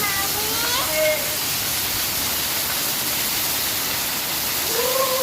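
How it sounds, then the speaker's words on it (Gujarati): Heavy rain pours down outdoors in a steady, loud, dense roar of broadband hiss with no letup, while faint tonal voices or calls rise briefly above it near the start and the end. "ફૂલ વરસાદ છે."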